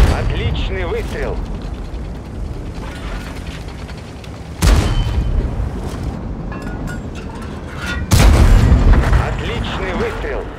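Heavy booming IS-4 tank cannon shots in World of Tanks, two big blasts spaced several seconds apart over a rumbling engine drone.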